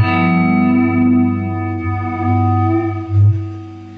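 A Taylor T5 guitar plays chords through an Electro-Harmonix flanger pedal, the tone sweeping and whooshing as it swells and ebbs, with no voices.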